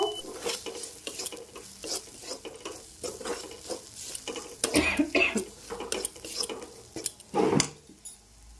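Spices with Kashmiri red chili powder stirred in a hot pan, a spoon scraping and clinking against the metal in repeated strokes over a soft sizzle, close and without talking.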